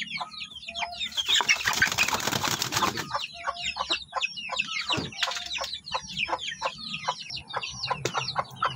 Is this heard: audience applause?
no